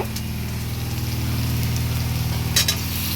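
Marinated chicken sizzles steadily in hot oil in a pan for a desi chicken kosha, a close, even frying hiss with brief clinks of a utensil near the end.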